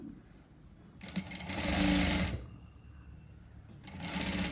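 A sewing machine stitches a saree blouse in a quiet room, its needle whirring in a short run of about a second that swells and stops, with softer handling sounds before and after.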